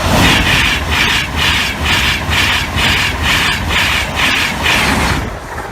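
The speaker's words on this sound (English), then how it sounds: "there might be a chance we stay for the next train, the IEP" IEP train passing the Norwell Lane level crossing, a loud, close, rhythmic run of wheel beats repeating about every half second under a steady roar, easing slightly at the end.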